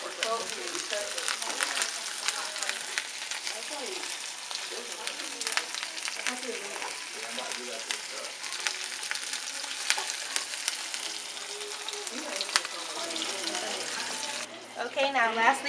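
A pan-seared steak with garlic cloves and thyme sizzles continuously in a hot pan, a soft crackling hiss with faint voices in the background.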